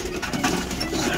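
Pigeons coo softly in a loft, a low murmuring coo rising and falling over a steady rustling background, close by and without speech.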